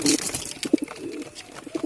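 Soft, low pigeon coos repeating in short bursts, close by, with faint rustling between them.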